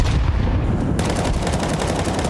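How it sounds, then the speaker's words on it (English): Rapid sustained automatic gunfire from a full magazine dump in a Counter-Strike match, loud dense bursts of shots running the whole way through. "ZTR just commits to the full mag dump"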